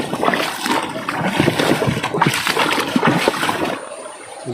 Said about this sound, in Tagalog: Saboy ng tubig to.